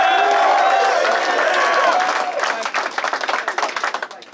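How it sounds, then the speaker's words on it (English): Crowd applause and clapping at a rap battle in Melbourne, loud and dense at first, then breaking into scattered, uneven claps that fade toward the end. "give a round of applause for yourselves"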